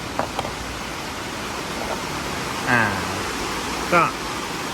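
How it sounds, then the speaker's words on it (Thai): Heavy rain pours down as a steady, dense hiss, with someone talking quietly over it. "โอ้ตอนนี้ฝนตกหนักเลยนะครับ"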